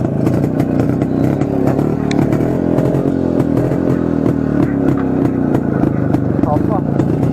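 A 1982 Yezdi D250 classic motorcycle, 250cc, runs close by with a loud, steady thumping engine note and rising revs, mechanical clatter throughout, while someone talks over it.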